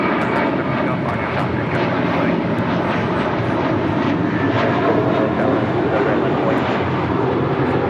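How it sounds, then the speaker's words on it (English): An American Airlines jet airliner takes off from LAX bound for Dallas–Fort Worth, its steady broadband engine roar loud and sustained throughout with faint voices underneath. "That was American Airlines Flight 1639 heading to Dallas"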